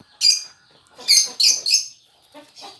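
Lovebirds in a breeding aviary give short bursts of shrill chirps, a quick call followed by three rapid chirps and then fainter trailing twitters, close and clear with no talking.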